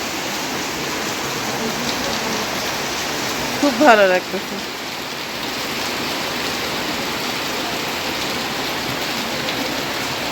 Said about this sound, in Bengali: এই বৃষ্টির শব্দ পাচ্ছেন কিনা